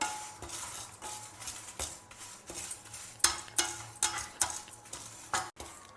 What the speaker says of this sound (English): Dry roast all the ingredients till the dals and other spices are also well roasted.